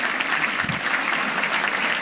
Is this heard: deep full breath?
no